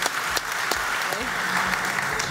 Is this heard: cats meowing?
no